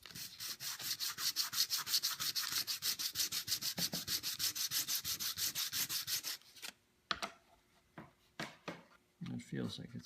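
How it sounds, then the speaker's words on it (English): A wooden casting for a Chippendale chimney piece sanded by hand with 100 grit sandpaper: fast, even back-and-forth rasping strokes for about six seconds, then scattered rubs and taps with a voice in the pauses. "That's a 100 grit sandpaper."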